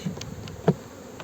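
Honeybees buzz faintly around an opened hive in Muğla, with a soft drone and a brief louder pass or knock near the middle.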